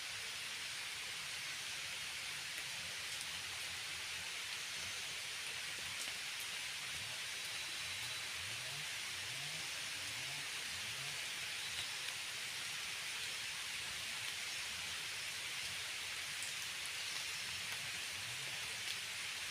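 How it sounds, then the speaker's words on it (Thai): Steady broadband hiss of rain falling, constant and enveloping throughout, with faint low tones occasionally surfacing underneath. "ตกอีแล้วฝนนี่"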